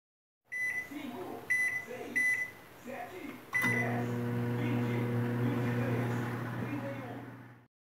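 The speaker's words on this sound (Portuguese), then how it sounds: "Agora eu vou tirar essa tampa aqui e vou botar no micro-ondas por 7 minutos." A microwave oven heats a cassava purée meal, starting with a few short beeps, then a steady loud hum runs for several seconds with a voice talking over the start.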